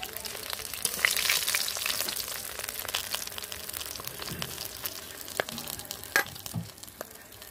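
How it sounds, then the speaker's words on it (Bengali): Fish fry in oil in a pan with a continuous close sizzle and bubbling. Scattered sharper pops and clinks break through as the pieces are lifted out. No one speaks. "মাছগুলো এই যে ভাজা হয়ে গেছে, মাছগুলোকে এবার তুলে নিচ্ছি।"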